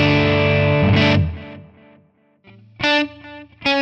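Clean electric guitar through a Mesa Boogie MkII capture on a Quad Cortex into a 1x12 cabinet: a sustained chord ringing out and decaying, then two sharp strummed chords near the end, with light ambience and no talking.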